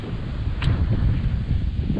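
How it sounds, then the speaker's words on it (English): Low, steady wind rumble buffets the microphone throughout at a California trout camping site, with a brief faint higher whistle partway through. "it's pretty windy and chilly"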